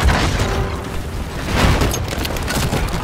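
Roof debris crashing down in Battlefield V, a dense rumbling roar of falling rubble and booms, loud and close, with no talking.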